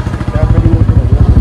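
Royal Enfield Classic 350 engine thumping loudly up close after its fourth service, a fast steady pulse of deep low beats with mechanical clatter, while a voice talks over it.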